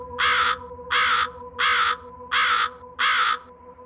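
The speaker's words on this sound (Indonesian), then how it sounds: "suara burung itu mengagetkan mereka." Five loud, evenly spaced crow-like caws ring out over a low droning ambience, a bird calling as an eerie effect in a horror story, with no voices.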